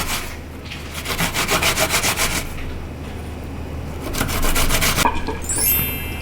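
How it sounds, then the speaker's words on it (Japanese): An apple being grated for Japanese curry: two bursts of fast, rhythmic rasping strokes against a grater, close and loud, separated by a short pause, ending with a faint scrape. "最後に入れるリンゴをおろします。"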